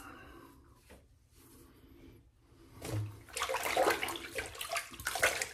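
Water rinses over the face after a straight razor shave, starting with faint trickles and handling knocks, then swelling into a close, steady splashing wash for the final seconds.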